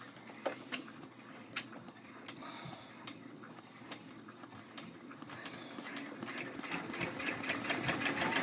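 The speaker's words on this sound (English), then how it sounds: "So I'm gonna go ahead and stitch that one." A sewing machine stitches a fabric bag tag in a steady, close whirring run with a quick repeating stitch rhythm, a few sharper clicks along the way, and the motor growing slightly louder toward the end.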